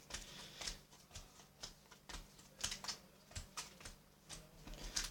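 Pokemon trading cards are dealt one by one into piles on a table, making quiet, irregular soft taps and flicks with no talking.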